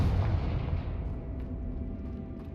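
A Confringo spell explosion from the video game Hogwarts Legacy lands as one heavy, low boom at the start, then rumbles and fades slowly over the next couple of seconds with no other sound over it.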